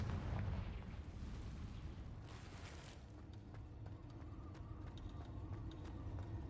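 A Confringo explosion spell bursts in Hogwarts Legacy, opening with a loud, low rumbling blast that dies down into a sustained deep roar with faint creaks and ticks, and no speech.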